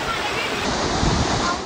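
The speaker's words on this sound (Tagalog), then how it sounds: "Nagngangalit ang kulay putik na baha nang mabilis itong lunurin ang mga bahay at establishmento." Rushing muddy floodwater surging through a flooded city street among houses and buildings, a loud continuous roar with a news voice speaking over it.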